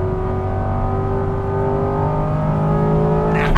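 A Chevy pace car engine pulls hard on a race track, a loud close steady drone with rising tonal whine building as it accelerates, ending in a brief burst at the close.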